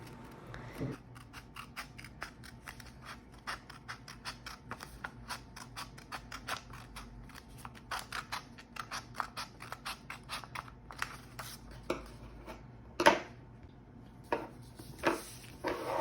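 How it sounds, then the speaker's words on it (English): Scissors snip through an excess strip of origami paper, a long run of quick, close, crisp cuts at a steady rhythm with a few louder snaps near the end, no talk. "I'm going to go in with some scissors, and I'm going to cut the excess sheet of paper"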